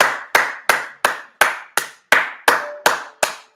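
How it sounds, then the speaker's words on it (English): Hand clapping in a steady, evenly spaced series of ten sharp, close claps, each ringing briefly before the next, with no other sound between them. "so we can give him a good hand"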